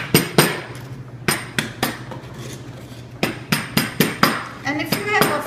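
Salad ingredients for Lebanese fattoush, salted with about a teaspoon of salt, are smashed in a series of sharp, close, rhythmic pounding knocks, with a brief voice near the end.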